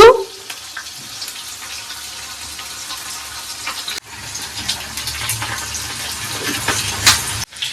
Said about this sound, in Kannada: ಆನಿಯನ್ ಸ್ವಲ್ಪ ಫ್ರೈ ಆಗೋ ಥರ ಬ್ರೌನಿಶ್ ಬರೋ ತರಂತ ಸ್ವಲ್ಪ ಫ್ರೈ ಮಾಡ್ಕೊಬೇಕು